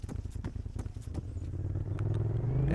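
A vehicle engine idling in the Arma 3 video game, a low rhythmic chugging rumble that grows steadily louder and denser over a few seconds, with some clicking at the start.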